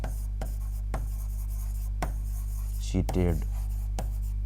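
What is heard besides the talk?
writing on a board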